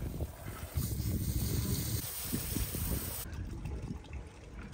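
A hose sprays water across a boat's deck to wash off sand left by Hurricane Hilary, a fairly faint, steady hiss broken by soft low thumps and splashes, ending in a thinner trickle.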